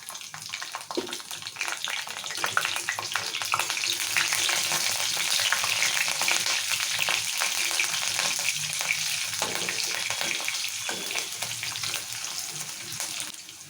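Cut green chillies hit hot oil already frying whole spices for a chicken curry, giving a loud, continuous close sizzle with crackles and occasional stirring scrapes that fades a little toward the end; no one speaks.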